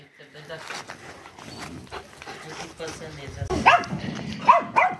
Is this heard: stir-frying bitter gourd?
no